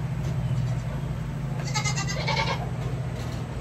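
Baby goats bleat close by during hoof trimming, a couple of short wavering cries heard over a constant low background rumble.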